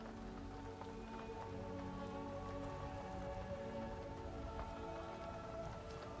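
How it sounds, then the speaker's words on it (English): Rain patters steadily on a tent in the video game Skyrim, a constant soft drumming with a faint low tonal hum beneath it. "You can hear the rain on the tent."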